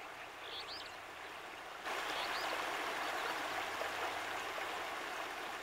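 Rushing water of the Stikine, a huge wilderness river in Canada, heard as a steady broad roar that swells louder about two seconds in and then holds, with no voices.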